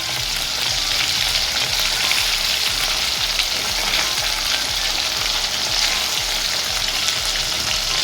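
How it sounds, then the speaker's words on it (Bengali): Fish fries in hot oil in a home kitchen, giving a steady, dense, close sizzle that crackles evenly throughout with no voices. "খুব কড়া করে ভাজবো না, হালকা করেই ভাজবি, কিন্তু লাল হয়ে যাচ্ছে।"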